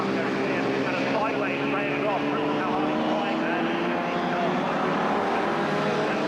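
Classic touring cars racing at Silverstone, including a Lotus Cortina, roar by in a loud continuous blend of revving engines with shifting pitch as a commentator talks over them.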